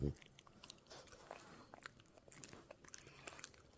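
A French bulldog chewing a dog snack, close wet crunching and biting sounds in quick bursts while a person talks softly nearby.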